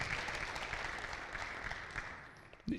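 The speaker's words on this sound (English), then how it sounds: "Ladies and gentlemen, a well-deserved round of applause for these principals and their growth." An audience at a high school celebration claps for school principals, a soft, somewhat distant wash of steady applause with a brief louder burst near the end.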